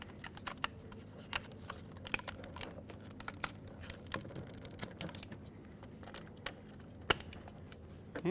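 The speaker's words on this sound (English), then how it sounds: "Make sure they click in." Small plastic electrical plugs on a 2000-2005 Ford Excursion master window switch snapping into place, heard as sparse, sharp, close clicks and taps scattered over a quiet background.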